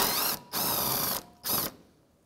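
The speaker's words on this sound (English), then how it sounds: "with the 10 millimeter socket, we're going to remove this last bolt holding the bumper in place" A ratchet with a 10 mm socket spins off a bumper bolt on a 2007-2013 Mitsubishi Outlander in two close, loud bursts of rapid clicking, separated by a brief pause, then quiet.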